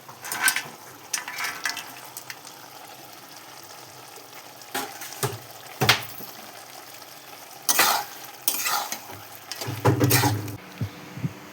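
Soaked badi lentil dumplings stirred into cooking greens in a pan, soft simmering sizzle with intermittent scraping and clattering stir strokes, close and fairly quiet, no voices.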